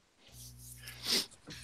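A single sharp sneeze from a sick person during a car-talk podcast, quiet and close, with a brief breathy intake before it and a short exhale after.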